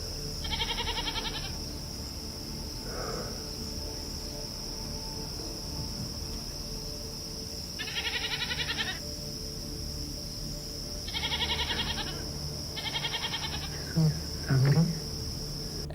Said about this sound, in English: the goat can be heard bleating repeatedly.